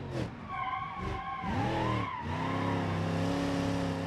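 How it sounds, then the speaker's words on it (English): Gavril Roamer SUV skidding and drifting in the BeamNG driving game, with a sustained tire squeal that bends and wavers in pitch over a steady engine hum, continuous and loud throughout. "I'm gonna try to do a nice skid"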